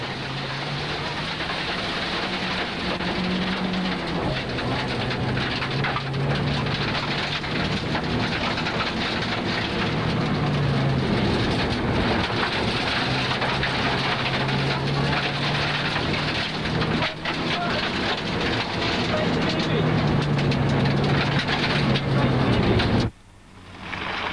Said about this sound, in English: We join them on the start line of the first stage for a driver's eye view from inside the RDS Montego Turbo